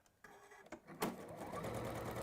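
A domestic sewing machine stitches fabric seams, starting with a couple of short bursts and then running in a steady, fairly quiet whir.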